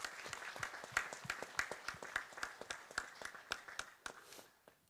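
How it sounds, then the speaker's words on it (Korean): A church congregation claps together in sustained applause during a Sunday service, dense, fairly loud rhythmic clapping that fades out near the end. "우리 격려의 박수 같이"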